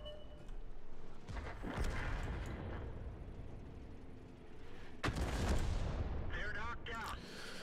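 Artillery guns in the World of Tanks video game fire in deep booming blasts, one near the start and another louder one later, amid game rumble with someone talking over it.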